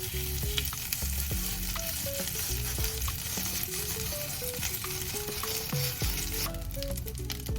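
Melted butter fries and crackles in a very hot cast iron skillet being readied for cornbread batter, a dense continuous sizzle heard up close with scattered pops.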